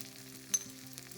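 Mint chutney mixture with tamarind cooks gently in a pan over a low flame, a soft steady sizzle with one brief stir clink, quiet and close.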